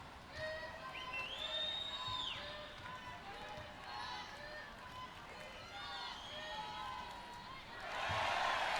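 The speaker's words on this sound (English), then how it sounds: "you can hear now the crowd taking France's side" Arena crowd at a Paralympic wheelchair basketball game roars for France, a steady wash of cheering and shouting with sneaker squeaks and a louder swell near the end, under continuous commentary.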